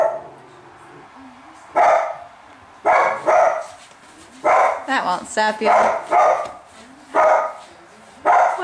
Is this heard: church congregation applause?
no